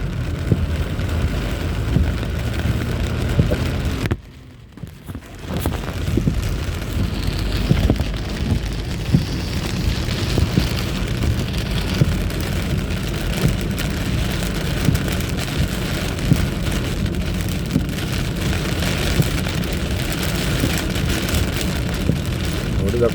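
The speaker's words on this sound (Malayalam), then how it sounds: "അത്രയ്ക്ക് ശക്തമായ മഴയാണ്" Heavy rain pours down during a flood in Ajman, roads running with water, a dense, loud continuous hiss that briefly drops away after a few seconds before returning at full strength.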